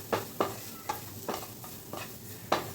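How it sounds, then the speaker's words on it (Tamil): Sweet potato pieces frying in ghee over a low flame, stirred now and then, giving a soft steady sizzle broken by several sharp scraping clacks of the spoon against the pan, close and alone. "லோ ஃப்ளேமில் வச்சு வறுத்துக்கோங்க சக்கரவள்ளிக்கிழங்க."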